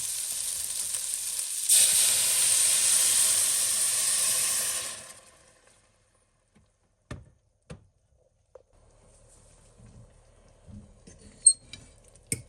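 Water hits a hot pot for chicken broth and sizzles loudly, a bright hiss lasting a few seconds before cutting off, then quiet with scattered clinks and knocks of ingredients going in.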